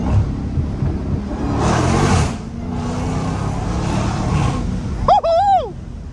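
Engine of a Dodge SRT Hellcat, heard from inside the car, rumbling and building in a sustained rev, with a brief sharp whine near the end.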